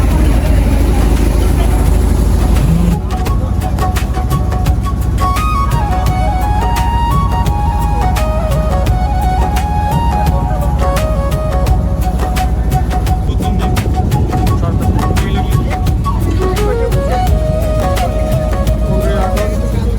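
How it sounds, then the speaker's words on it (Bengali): A trawler boat's engine drones loudly and steadily close by on a river trip, with a low rumbling throb and some music-like tones over it. "এখানে দেখেন আরেকটি ট্রলার যাচ্ছে"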